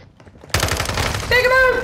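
Rapid automatic gunfire from the video game Modern Warfare II, a dense loud burst of shots starting abruptly and continuing steadily, with a voice talking over it.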